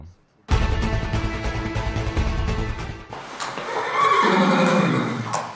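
A horse at an equestrian centre whinnies loudly and close, a long shrill neigh followed by snorting and softer whinnying, with possible hoof clatter in the background.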